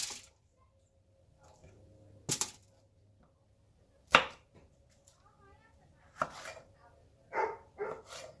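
A knife cuts hot peppers on a board to remove the seeds, a few sparse, sharp taps spaced seconds apart against a quiet background.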